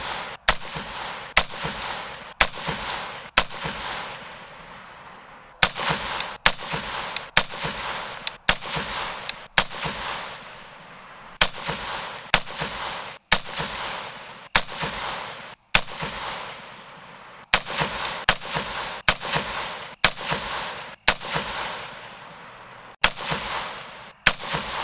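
A Colt Commando LE 6933 rifle fires round after round, about two dozen sharp, loud cracks spaced roughly a second apart in small groups, each followed by a brief echoing decay at an outdoor range.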